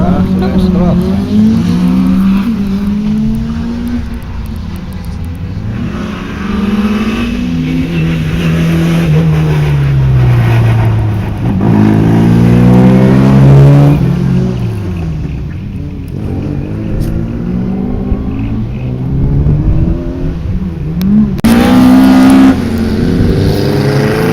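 A rally car at a motorsport event in Meath drives past, its engine rising and falling as it revs loudly and changes pitch, with spectators talking nearby.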